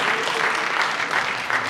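Applause from the audience at a film festival award ceremony fills the room, a dense, even patter of many hands clapping with a slight pulsing swell and no voices over it.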